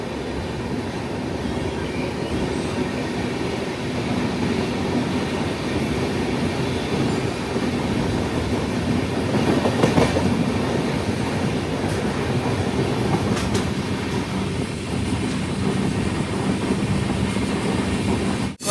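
Kerala Sampark Kranti Express running on rails from Thiruvananthapuram to Kannur near Kollam, a steady, loud rolling rumble with clattering wheels that swells slightly midway, with no talking.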